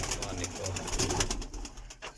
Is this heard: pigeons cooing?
yes